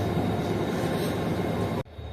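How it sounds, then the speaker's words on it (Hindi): Marvi Passenger train standing at the main platform of Khokhrapar railway station in the Thar Desert, a loud steady rumble of idling locomotive and rail noise that cuts off abruptly near the end. "ये खड़ी हुई है हमारी मारवी पैसेंजर खोखरापार रेलवे स्टेशन के मेन प्लेटफॉर्म पर"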